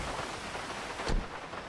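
Rain in Grand Theft Auto V falls as a soft, even hiss at low level, with a brief louder rumble or splash partway through.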